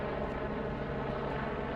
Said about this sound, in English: as a National Guard helicopter circled above